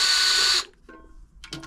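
Cordless electric screwdriver whirring steadily as it backs out wet, seized screws on a repair job, a continuous buzzing run that stops abruptly, followed by faint clicks and a short second burst.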